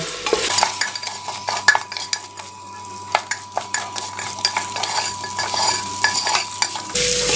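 Chicken coated in masala powder is stirred in a pan for chicken curry. A spoon scrapes and clicks against the metal over and over in an uneven rhythm, over a steady, moderate frying sizzle.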